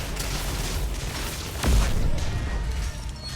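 An enemy mech blows up in Mass Effect 3 with a single deep, heavy boom midway, rising out of continuous rumbling battle ambience and then rolling off.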